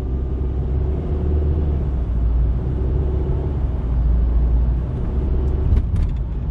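Steady low road rumble and engine drone from inside a car cruising on a freeway, continuous and even throughout with no talking.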